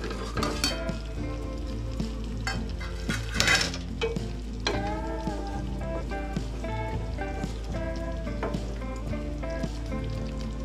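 Fried potatoes are stirred in a pan for dum aloo, with a steady sizzle under repeated scraping and stirring strokes, close and moderately loud, with no talking.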